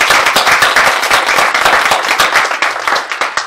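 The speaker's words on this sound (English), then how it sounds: "and give them one more round of applause." Conference audience applause at a UN water conference, a loud close burst of many hands clapping in a brisk, dense rhythm that holds steady for a few seconds.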